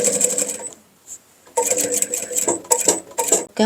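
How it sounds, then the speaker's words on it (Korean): A sewing machine stitching bias binding along the edge of a vest, running in quick close bursts with short pauses between, its needle chatter loud and rhythmic. "돌려서 이 바이어스 결 그대로 쭉 박음질 해주시면 돼요"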